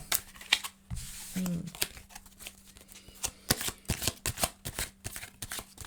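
Tarot cards being shuffled up close, a run of quick riffling snaps and flutters that stop and start, with a person speaking at moments between them.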